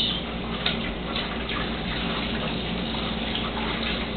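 Water runs steadily from a kitchen faucet onto a dirty dish, a loud, even rushing splash that continues unbroken with no talk.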